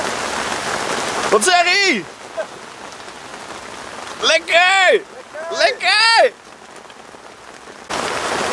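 Heavy rain drums steadily on a shelter during a carp-fishing session in South Holland, a loud continuous patter that carries on under and between short bursts of excited Dutch talk.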